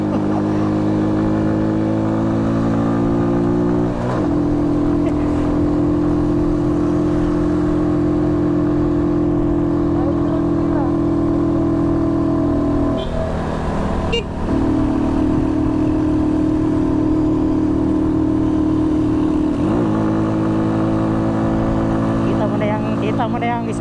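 A Rusi Flash 150 motorcycle carrying a passenger runs its engine in a loud, sustained drone, holding high revs with brief dips and surges around the middle and near the end.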